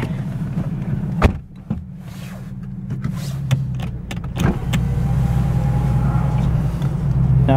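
Modded Nissan 370z exhaust revving inside a garage, a steady loud rumble with a few sharp blips partway through, building louder toward the end.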